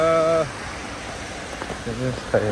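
Steady heavy rain hisses in the background on a Hong Kong street, with brief voices at the start and end.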